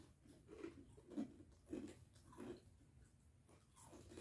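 Crunchy chewing of toasted garlic bread at a family snack table, several close, rhythmic bites spaced about half a second apart, faint and intimate with no talking.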